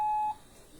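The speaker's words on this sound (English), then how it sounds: "I'm ringing using the WhatsApp." A single short electronic tone of a WhatsApp call ringing sounds clear and close, then cuts off into near silence.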